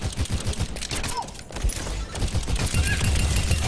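Rapid automatic gunfire from D.Va's weapon in the video game Overwatch, a loud sustained stream of shots with steady rhythm, briefly dipping mid-burst before resuming strongly.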